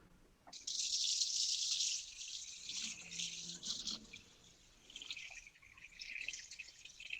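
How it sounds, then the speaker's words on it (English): Water pours into a pot of legumes and grain, a soft splashing rush that starts strongly, then trickles on more unevenly. The sound is quiet and close, with no talk. "Then I'm going to add some water to this."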